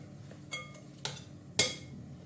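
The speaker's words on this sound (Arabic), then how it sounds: "غادي نحرك مزيان" A utensil stirring butter and cream in a bowl gives three faint, evenly spaced clinks against the bowl, with no talking.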